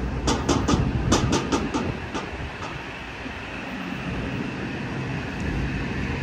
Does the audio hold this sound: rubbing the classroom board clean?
no